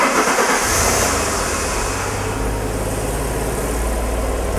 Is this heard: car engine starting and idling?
yes